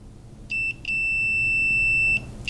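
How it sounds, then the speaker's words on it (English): A multimeter continuity tester beeps steadily on a conductive meteorite fragment: a short beep, then a long sustained one lasting over a second, and a brief blip at the end, over faint background hum. "when you touch them together, you get a closed circuit and it beeps"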